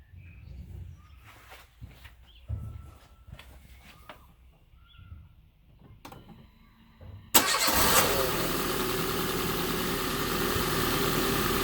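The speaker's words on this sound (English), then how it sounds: "start the car" Quiet shuffling and clicks, then an engine cranks and catches abruptly, settling into a steady, loud idle rumble that continues to the end.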